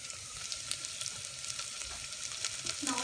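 Lemongrass and tomatoes sizzle and crackle steadily in a hot pan while being stir-fried as the base for a spicy sour seafood hotpot, a quiet, close, continuous hiss.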